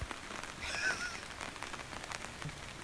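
Rain patters steadily in Algonquin Park, a soft, faint wash of drops on leaves and ground with scattered brighter taps and a brief distant honk-like call near the start.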